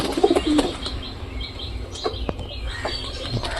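A pair of domestic pigeons coos nearby, giving soft throaty calls and a brief flutter of wings early on, followed by quieter cooing and small rustles.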